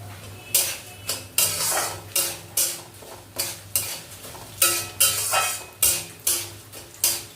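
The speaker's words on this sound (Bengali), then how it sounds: "মুগ ডালটাকে আমি একটু নাড়াচাড়া করে গ্যাসের ফ্লেমটাকে আমি মিডিয়াম টু লোতেই রাখবো।" Moong dal being stirred in a pan on a gas flame: a regular series of scraping strokes from a spoon against the metal, roughly every half second, over a faint, steady low hum, with no talk.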